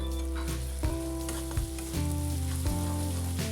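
Onion, ginger, garlic and chili paste frying in oil for vada pav, a steady sizzle with a few stirring knocks, set against a strong steady hum with tonal bands that shift in steps.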